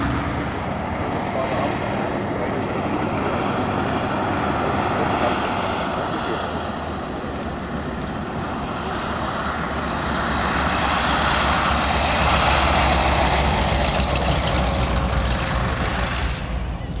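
A propeller-driven warbird comes in to land at the Hahnweide airshow. Its loud, steady engine roar fills the whole stretch and swells slightly toward the end.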